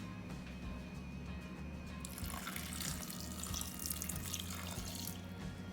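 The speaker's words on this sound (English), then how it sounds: "And I just need to add some water." Water pours steadily into a blender jar holding hummus ingredients with fresh dill, a continuous splashing stream that grows fuller and louder partway through, with no talk.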